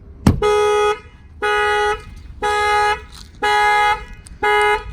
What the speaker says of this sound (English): I'm gonna go ahead and bang on the window, and that should set off the alarm system.